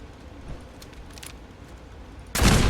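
Gunfire in the video game Fallout 4: a near, loud burst of shots erupts at the very end, after a stretch of quiet ambient rumble and faint clicks.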